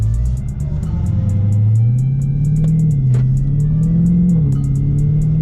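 A Dodge Charger pulling away in sport mode, its engine note climbing with a smooth steady drone, loud and close from inside the car, rising gradually over several seconds with no voices over it.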